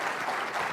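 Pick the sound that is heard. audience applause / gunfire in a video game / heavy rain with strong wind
audience applause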